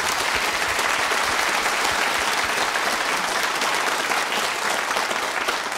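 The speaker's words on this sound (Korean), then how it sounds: "큰 박수로 맞아주시기 바랍니다." An audience applauds at the 17th KBS Overseas Koreans Award ceremony in March 2013, a dense, steady wall of clapping that stays loud and even throughout with no speech on top.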